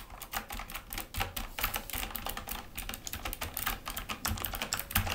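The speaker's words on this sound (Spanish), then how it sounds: "A mí realmente me encanta el sonido de los teclados mecánicos" Someone types continuously on an Azio Retro Classic mechanical keyboard, a rapid, steady stream of close, crisp clacky keystrokes with no voices over it.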